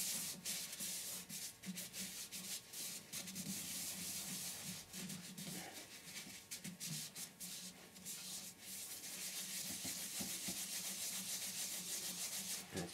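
A steady, soft rubbing hiss continues throughout as sanding sealer is applied with a cloth to a small wooden bowl spinning on a lathe, with a low lathe hum underneath.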